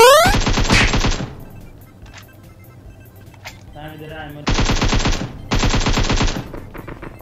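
Loud bursts of automatic gunfire from a weapon in a video game come in several rapid strings, with a quieter pause between them, while a voice talks over parts of the action.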